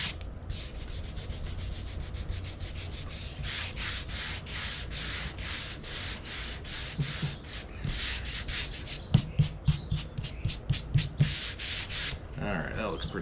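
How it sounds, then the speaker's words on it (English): Wood sanded by hand with sandpaper, a steady run of rhythmic rasping strokes, close and fairly loud, quickening toward the end before a short pause and a final few rubs. "not everybody has a power sander, so I decided to do it by hand today"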